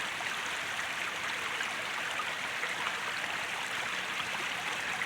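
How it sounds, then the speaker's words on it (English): After heavy rain, water gushes out of the side of a hill in a valley, a steady hiss of flowing water that holds constant, close and moderately loud, with no other sounds. "water is just coming in right out of the side of the hill"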